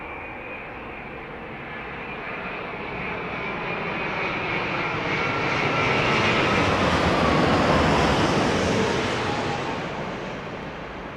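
A jet airliner landing on runway 27R at London Heathrow roars steadily, swelling as it passes closest and then easing off slightly, a loud broadband engine rush with a faint whine on top. Nobody speaks.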